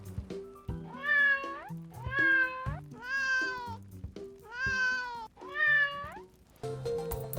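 A cat in the video game SunCraft meows five times in a steady, evenly spaced sequence. The calls are clear and close, over a soft background of game sounds.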